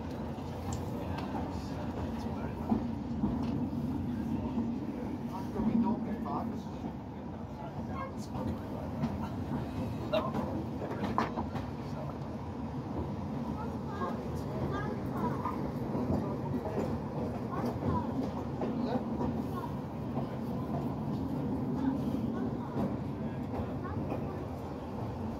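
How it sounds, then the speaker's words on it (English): A diesel train pulls out of Tunbridge Wells West station at a diesel gala, its engine droning steadily with rail clatter throughout, while someone speaks over the running noise. "train, now under control by R.J. Mitchell, departs Tonbridge Wells West"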